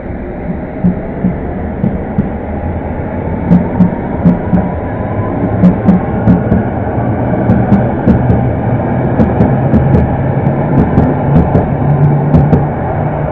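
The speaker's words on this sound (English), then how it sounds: "It's the London Underground Met Line service to Watford." A London Underground Metropolitan line train runs through Pinner station, a loud, sustained low rumble and hum with rhythmic clunks from the wheels over rail joints.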